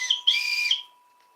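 A toy whistle sounding in short shrill tweets, two quick bursts and then a longer sustained blast that cuts off cleanly, close and fairly loud with no voices over it.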